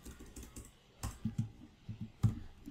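Typing code on a computer keyboard, a quiet, close run of uneven soft key taps and clicks in short bursts, with no talking.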